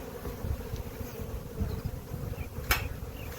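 Honey bees of a newly caught swarm buzz in a steady low drone that is moderately loud and continuous, with a brief sharp tick near the end and no talking.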